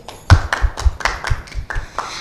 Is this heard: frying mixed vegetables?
no